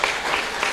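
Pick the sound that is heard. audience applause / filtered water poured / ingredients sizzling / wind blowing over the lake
audience applause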